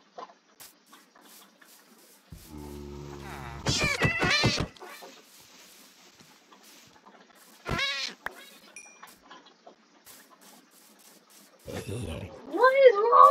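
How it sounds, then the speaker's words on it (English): A Minecraft cat mob meows several times in short, separate bursts, with one drawn-out whiny call and a few quicker mews, loud and close against near silence, with faint game clicks between. "What is wrong with the cat?"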